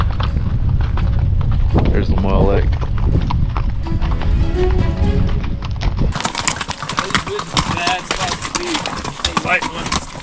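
Saddled horses walk up a mountain trail in Nevada's Ruby Mountains, their hooves clopping loud and close in a steady rhythm, with a brief snort or whinny amid rough outdoor noise.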